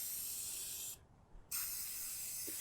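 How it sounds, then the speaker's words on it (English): A spray can of Rustoleum primer hisses steadily over rusty metal on an outdoor above-ground pool. The bursts are close and continuous, broken by one brief half-second pause. "I'm going to go ahead and spray this all on it"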